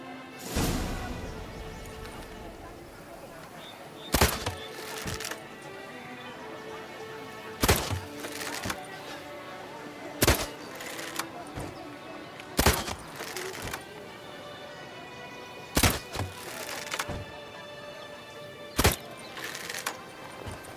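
Arrows or bolts fired at red targets in The Witcher 3: Blood and Wine, heard as about eight sharp loud impacts spaced a few seconds apart over a soft game ambience and music.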